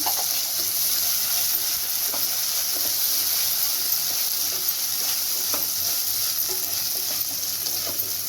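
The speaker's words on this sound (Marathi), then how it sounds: "पेस्ट चांगली परतून घेणार आहे मी।" Ginger garlic paste sautéing in a hot pan for egg biryani, a steady bright sizzle and hiss running throughout, with occasional soft stirring taps, close and without talk.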